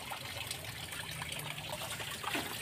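Water trickles and burbles steadily in a tarpaulin fish hatchery tank holding two-day-old fry, kept moving by an aerator, a continuous close wash of splashing with no pauses.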